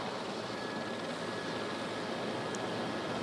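Steady loud broadband roar of an aircraft making an emergency landing, with tires burning and scraping along the runway, a continuous dense rush with no pauses or talk.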